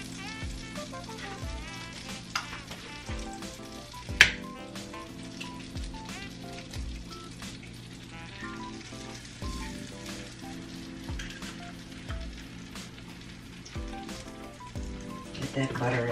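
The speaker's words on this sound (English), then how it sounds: "this 8-inch griddle makes the best fried egg" An egg fries in butter on an 8-inch griddle, a steady soft sizzle and crackle that runs throughout at low volume. Music plays underneath, and a voice talks at times.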